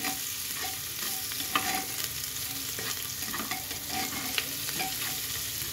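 Onion, garlic, cardamom and cinnamon fry in mustard oil, with a steady close sizzle and occasional stirring scrapes and spoon taps, with no voices present.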